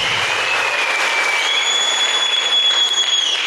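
Audience clapping at a training seminar, a dense, loud, continuous wash of applause filling the room without a break, with a faint whistle-like tone riding on top.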